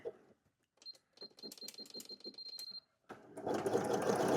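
Sewing machine running a wide zigzag stitch while sewing a cat bed: short bursts of rapid mechanical stitching with a whirring buzz and pauses between runs, followed by a louder, continuous fast run at the end.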